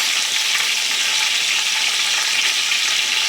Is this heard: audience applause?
no